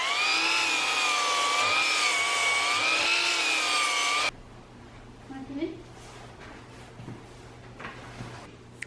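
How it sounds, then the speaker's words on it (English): A power saw cuts wood for Christmas ornaments with a loud, steady, high whine for about four seconds, then stops abruptly. Quiet room noises follow, with faint rustling and a few soft knocks. "Got the saw all set up."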